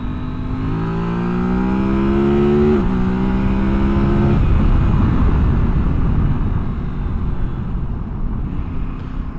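A Kove 800X Pro adventure motorcycle accelerates hard, its engine note climbing steeply through rapid quick-shifter gear changes, then settling into a loud, steady roar of wind and engine at speed.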